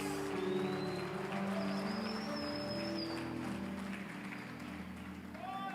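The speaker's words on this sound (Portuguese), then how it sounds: "Dá um grito de vitória, aplauda Jesus" A church congregation claps and cheers in a broad, steady wash of applause that fills the room, with voices mixed into the noise.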